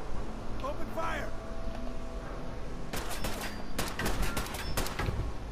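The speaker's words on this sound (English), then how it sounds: "Open fire." Gunfire in Fallout 4: a burst of sharp, closely spaced shots starts about three seconds in, loud and repeated over a busy background of game ambience and speech.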